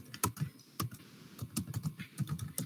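Fingers type on a computer keyboard while entering a library file name in code, giving a quick, uneven run of close, crisp key clicks with short pauses between bursts.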